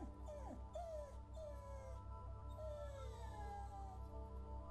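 Dog whimpering in the video game Sainte-Vibrisse: a series of high, thin whines that rise and fall, heard close over a steady low game music drone with no talking.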